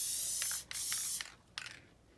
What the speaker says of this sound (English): Make sure you spraying the whole board, like where you're going to lay the foam at, so the foam can stick to the headboard.